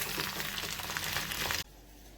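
Sweet potato slices sizzling and frying in a covered pan, a steady bright crackle that stops abruptly, leaving a faint hiss.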